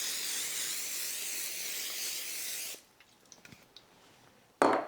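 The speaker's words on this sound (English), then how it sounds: "And then we spray the tops." Oil spray misted over the tops of tofu pieces before baking: a close, steady aerosol hiss lasting a few seconds, then quiet with small clicks and taps, ending in a brief sharp burst.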